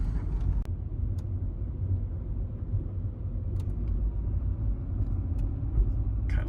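A 1993 Honda Prelude Si 5-speed with 219,000 miles hums along on a test drive, heard from inside as a steady low engine and road rumble with a few faint clicks and creaks.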